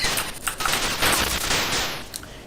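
Rapid, dense bursts of bright noisy shots from the ZX Spectrum game Licence to Kill, firing continuously over a couple of seconds with no talking.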